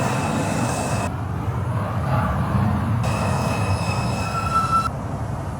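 Steady rumble of a Brooklyn-bound R142 4 train idling at the Bowling Green subway platform in New York, with a faint high whine and a brief metallic squeal, no voices.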